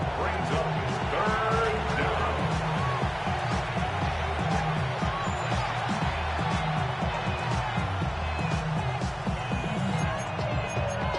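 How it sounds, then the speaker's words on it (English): A football stadium crowd at an Eagles versus Pirates game, late in the fourth quarter on third down, keeps up a steady, dense roar of noise with no break. "this crowd doing their best to make a lot of racket"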